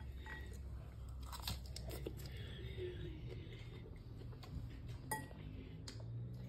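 Close, quiet crunching bites and chewing of fresh lettuce salad with garlic sauce, with a few light clinks of cutlery on a dish over a low steady background hum.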